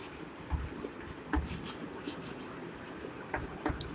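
Pen or chalk scratches out a math solution in short strokes and taps, a faint, close writing sound under a soft room hiss with no talk.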